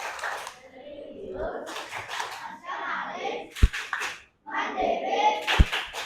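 Schoolchildren in an Indonesian class perform the tepuk PPK clapping chant, shouting rhythmic phrases in unison, punctuated by a few sharp, loud group claps and short pauses between lines.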